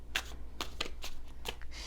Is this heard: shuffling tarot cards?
yes